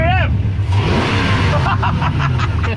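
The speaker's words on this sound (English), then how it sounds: "Go on. Start it up. Oh, naughty. Get a rev." A jet boat's engine cranks, catches and revs in rising surges, loud and close, while excited voices talk over it.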